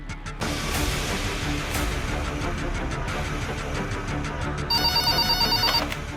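A telephone rings steadily and loudly up close while a call is placed to City Hospital, with a sharper electronic ringtone pattern joining near the end.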